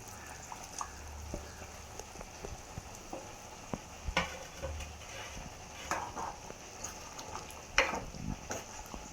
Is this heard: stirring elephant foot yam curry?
yes